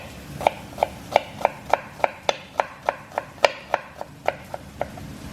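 A knife chopping onion on a cutting board for tacos, about eighteen crisp, evenly spaced taps in a steady rhythm, close and clear with no talking.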